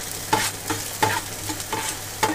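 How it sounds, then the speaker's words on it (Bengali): Chopped garlic and green chilli fry in a pan, stirred in quick repeated scrapes about every half second over a close, steady sizzle, with no talking. "রসুনটা এখানে হালকা একটু নাড়াচাড়া করে দিয়ে দেবো কাঁচা লঙ্কা কুচি।"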